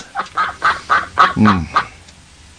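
A duck quacking in a radio drama, a loud close series of about seven nasal honking quacks in a steady rhythm.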